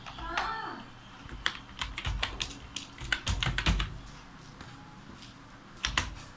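Keyboard typing while entering a word in MS Word, a faint spurt of key clicks in short uneven bursts with brief pauses between them.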